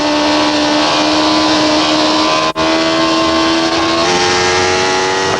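A 2001 Suzuki GSX-R1000 sport bike roars at high revs, its engine note climbing steadily and loud, with a brief dropout midway before the strained, rising tone resumes.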